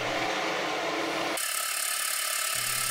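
A machine tool cutting thread into an aluminium rocket motor retainer, a steady high whine that shifts pitch abruptly partway through and stays continuous and close, with no voices.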